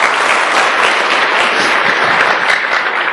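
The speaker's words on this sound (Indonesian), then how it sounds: "Aplaus buat Anda semuanya." Continuous applause from a seminar audience fills the room, steady and dense throughout with no pauses.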